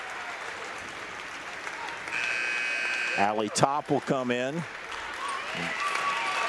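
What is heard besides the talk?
applause for senior basketball players leaving the game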